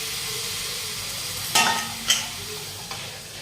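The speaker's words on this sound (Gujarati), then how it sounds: "વઘાર બહુ ઉડે, આ વઘાર ઉડે ને બધી બહુ ચીકણી થઈ જાય" Vegetables drop into hot oil tempered with curry leaves and turmeric, setting off a steady sizzle with two sharp crackling bursts midway and a smaller pop near the end.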